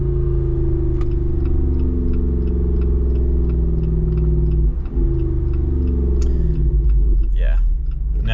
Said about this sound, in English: let's give you guys a few downshifts